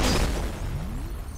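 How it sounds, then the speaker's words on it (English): Grenade blast in the first-person shooter FEAR, a short booming explosion with a dull low rumble that fades quickly. "Oh, that was a grenade."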